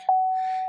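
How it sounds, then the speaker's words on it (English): A single short electronic warning beep, bright and steady, holding briefly from the nearby dashboard of a Duramax pickup truck. "pardon the beeping"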